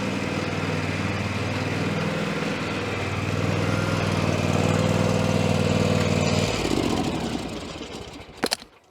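Petrol John Deere ride-on lawn tractor running with a steady engine drone that cuts off abruptly near the end, followed by a brief clatter.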